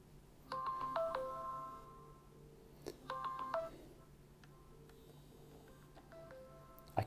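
Dialing tones from a CAT S22 Flip phone placing a normal call: short bursts of keypad beeps in two clusters, then softer sparse tones, fairly quiet against a faint steady hum.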